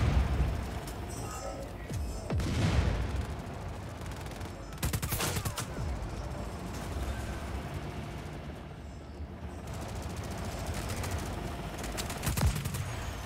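Gunfire in the open-world action game Just Cause 4: rapid bursts of shots and sharp blasts crackle over continuous game ambience and a steady engine-like rumble, with several louder volleys standing out.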